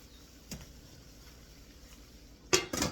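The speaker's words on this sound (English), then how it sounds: "now here's my yellow squash. I'm going to dump that in now" Yellow squash dumped into a pan on the stove, a faint tap first, then two quick loud clattering thuds near the end against a quiet kitchen background, no talk.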